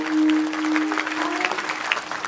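An audience at a saints' death-anniversary religious gathering breaks into loud, sustained clapping after a brief held vocal tone, the claps crisp and dense.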